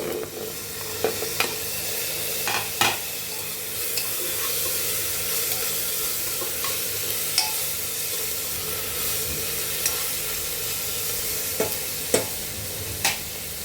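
Tomatoes tossed into a hot oil tempering for sprouted matki usal sizzle steadily and close, with a spoon stirring and scraping the pan in occasional sharp clicks; no one talks.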